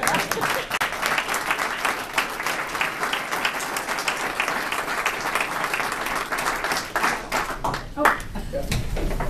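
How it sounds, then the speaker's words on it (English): Applause from an audience at a Pentagon event honouring the new Defense Security Service, dense continuous clapping filling the room for several seconds, with a few louder nearby claps standing out. "think there should be a round of applause"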